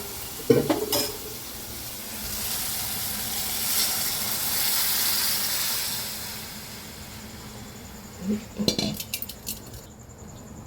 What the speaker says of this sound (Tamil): அவ்வளோதான். தக்காளி வதங்கிடுச்சு.